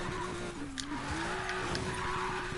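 Car drifting through a corner in Need for Speed Payback, a steady engine drone with tire skid noise held throughout, loud and continuous with no talk.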